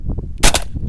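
A single sharp gunshot from a KelTec Sub 2000 .40 pistol caliber carbine using Glock magazines cracks loud and close at an outdoor range, a brief broadband report in an otherwise quiet moment.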